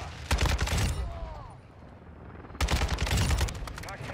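Kastov 762 assault rifle fire in Modern Warfare 2 comes in two loud rapid bursts, close and sharp, separated by a quieter gap of faint game ambience.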